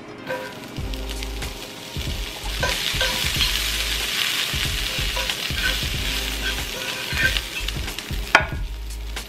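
Food sizzling and frying in melted fat in a pan, steady crackling hiss with repeated scraping stirs and light clunks of a utensil, close and fairly loud, no voices.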